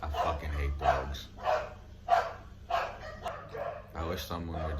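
A neighbor's dogs bark repeatedly in a regular rhythm, loud and nearby, over a low background hum with a brief mutter of voice near the start.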